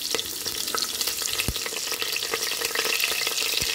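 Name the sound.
frying green chillies in mutton curry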